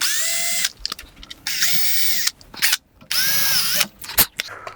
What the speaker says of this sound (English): that's where I use my 5mm drill bit. And what I'm going to do is drill a hole here and here and there and there